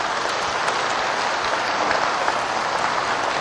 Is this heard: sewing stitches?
no